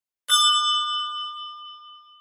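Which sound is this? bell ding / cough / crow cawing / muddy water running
bell ding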